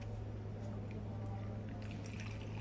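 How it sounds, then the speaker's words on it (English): Cajeput oil poured into a small bottle gives a faint, soft trickle and drip over a steady low electrical hum, quiet and close. "Now let's pour this into the bottle."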